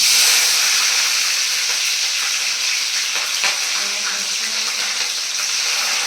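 Green chillies frying in hot oil for brinjal bajji, giving a steady, close sizzle and hiss with light clinks and stirring sounds and no talking.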